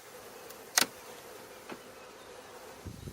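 Honeybees from a caught swarm buzz over a crowded hive frame, a faint steady hum with one sharp close pass and a few softer fly-bys.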